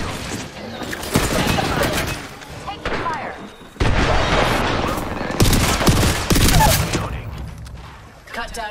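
Dense, continuous gunfire in a shooter video game, with rapid automatic bursts, single shots and booming blasts layered together, loud and close, broken by a brief lull before the shooting resumes.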